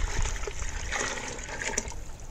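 Water poured into a cooking pot for chicken biryani rice, a steady splashing trickle running continuously throughout at close range.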